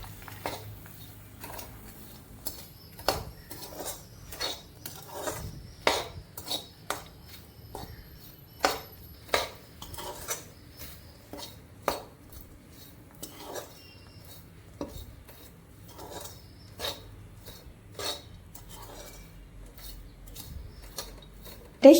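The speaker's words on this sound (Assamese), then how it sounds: "আৰু আটাইখিনি ভালদৰে মিহলাই দিছোঁ।" Roasted makhana being stirred into melted sugar in a pan for caramel makhana, repeated close scraping and clinking of a spatula against the pan in an irregular rhythm throughout.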